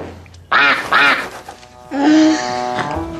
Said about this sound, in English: Please tell me that was the duck.